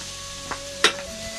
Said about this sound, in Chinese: 泡椒和酸萝卜啊一起爆炒